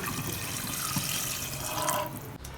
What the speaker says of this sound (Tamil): இப்போ சூப்புக்கு தண்ணி ஊற்றிக்கலாம்